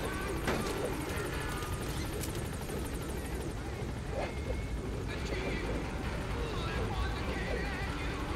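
Helicopter rotor in the video game Metal Gear Solid V: The Phantom Pain drones steadily under game effects and occasional clip-clop of horse hooves, with a brief whinny in the mix.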